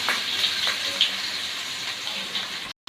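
Onions dropped into hot oil and ghee with cumin for egg biryani, sizzling as a loud, steady hiss close by, with no one talking.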